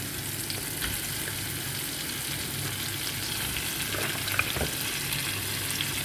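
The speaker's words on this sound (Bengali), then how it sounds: "মশলাটা কষানো হয়ে গেছে চিকেনটা দিয়ে দিলাম" Chicken pieces frying in a pan of sautéed spice masala give a steady, close, continuous sizzle with no voices.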